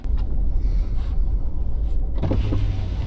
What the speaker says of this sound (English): Roll the window down for Mr. Frank here.